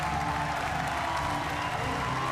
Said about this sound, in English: that is a genuinely enthusiastic crowd